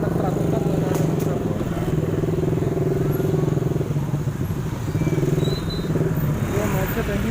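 Motorcycles crawl and idle in a heavy traffic jam at the Malingping town square during the pre-sunset ngabuburit crowd, giving a steady, close engine drone with a few faint high clanks over it.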